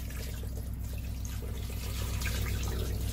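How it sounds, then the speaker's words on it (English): Fresh water pours steadily into a FitnessClub portable 7.6 kg twin tub washing machine aboard a canal boat, giving a continuous splashing rush over a low, even hum, with no talking. "so we're going to pour fresh water in here"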